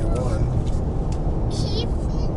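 Engine of a 2020 Nissan Titan Pro-4X pickup pulling a trailer up a steep mountain grade, a steady low rumble and road roar filling the cab with no clear rev peaks.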